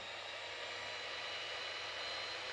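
A newly switched-on electric epilator bought from Aliexpress runs with a faint, steady whirring hiss that stays even throughout with no other sounds.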